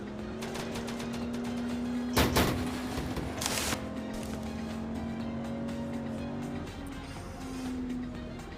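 A car speeds off fleeing police in Grand Criminal Online, its engine droning steadily with a couple of sharp bursts or skids early on, then fading into a sustained running hum.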